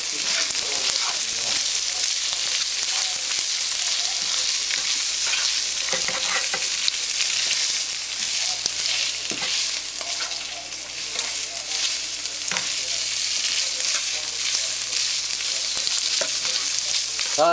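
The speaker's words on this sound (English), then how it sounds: "Now I'll just stir these throughout the mixture" Ground beef mixture for shepherd's pie sizzles steadily in a hot pan while a utensil stirs through it, a loud, continuous frying hiss with scattered scraping clicks and no talking.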